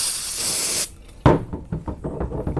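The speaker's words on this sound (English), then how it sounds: "Just spraying a little bit of brake clean here." Brake cleaner sprayed from an aerosol can onto a brake caliper pin during front brake work on a Toyota Camry, a loud steady hiss lasting under a second, followed by a sharp knock and a few softer clunks.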